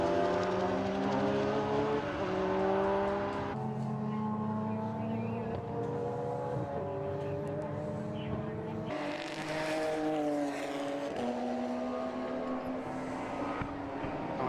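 BMW 1 Series and Porsche race cars lap Donington Park circuit during a Classic Sports Car Club race, their engines droning steadily at a distance, with pitch sweeps as cars pass and gear changes break the tone.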